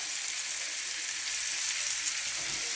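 Thinly sliced button mushrooms with two large garlic cloves frying in a pan, a close, steady bright sizzle that continues evenly throughout with no talking.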